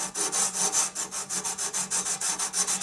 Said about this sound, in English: you sand this way, pull back, sand the other way